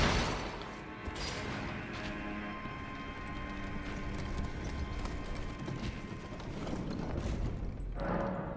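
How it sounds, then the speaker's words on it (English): An elevator mechanism activating in Elden Ring at Stormveil Castle, heard as a continuous rhythmic mechanical clanking and grinding of gears and ratchets, loud and close, with no speech. "there is this elevator that we're going to be activating"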